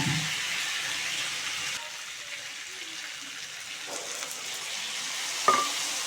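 Red chili paste dropped into a hot pan crackles with a strong hiss that soon settles into a softer, steady sizzle, broken near the end by a single sharp clink.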